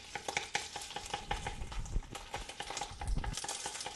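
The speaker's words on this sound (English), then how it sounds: "This is just my tomato paste being fried." Tomato paste frying in a pan on the stove while a utensil stirs it steadily, soft sizzling under repeated scraping and clinking strokes, close and with no talking.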